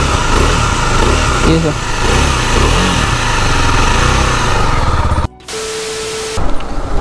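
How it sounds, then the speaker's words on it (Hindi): A KTM Duke 390 BS6 motorcycle from 2023 runs with an abnormal engine noise, a steady loud mechanical clatter and hum close by that cuts out briefly near the end, while someone talks over it. "इंजन के ना यहाँ से कहीं से आवाज़ आ रही है"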